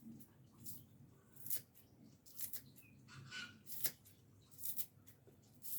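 Close scissor snips cut through raw fish in a home kitchen, a series of short crisp clicks and crunches spread across the moment, fairly quiet against a soft background.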